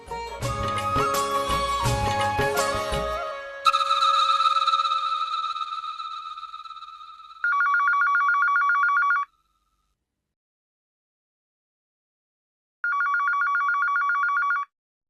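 A telephone rings on the line after a number is dialed, in a Hindi TV serial scene: two steady buzzing ring bursts with a long pause between, following a loud musical sting with chimes.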